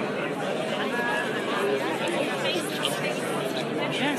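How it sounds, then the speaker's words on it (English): A dense crowd chatters loudly at a memorial service in Israel, a steady wash of many overlapping voices with no single speaker standing out. "Only in Israel are the crowd louder than the memorial service that they're at."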